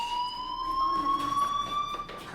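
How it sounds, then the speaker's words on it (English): A school fire alarm in the game Life is Strange sounds as a steady, continuous electronic tone held unbroken throughout, loud and close, with a faint murmur of background noise beneath it. "Hey, do you hear that fire alarm?"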